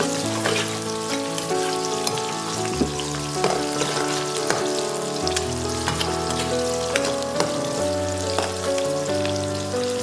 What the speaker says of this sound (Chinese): 锅烧肉多倒点食用油，加入香料炸香